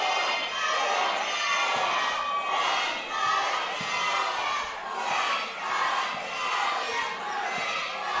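A wrestling crowd at an indie show cheers and shouts without a break, loud and dense, with a steady roar of voices that swells and dips slightly throughout.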